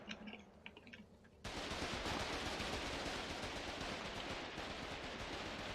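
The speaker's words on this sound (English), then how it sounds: "finally Spooky finds himself a window and starts opening up on the HMG over here" A heavy machine gun fires in the Foxhole war video game; after a quieter opening, a dense, sustained burst of rapid gunfire erupts and holds loud and continuous, with no talk.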